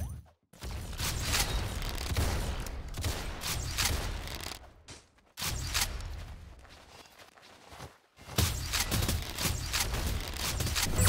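Gunfire from the video game Arsenal on hard mode, with dense bursts of shots and impacts filling most of the stretch, broken by two brief silent gaps, loud and close with no talk.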